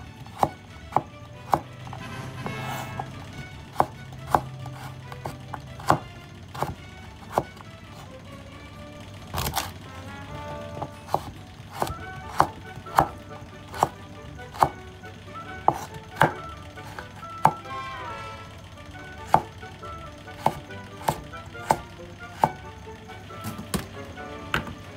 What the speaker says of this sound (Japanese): ここで細かく切っていきます。